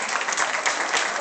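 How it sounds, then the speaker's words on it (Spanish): Strong audience applause at a cultural event, a thick, continuous burst of many clapping hands, loud and close, filling the short moment without any voices. "Un fuerte aplauso"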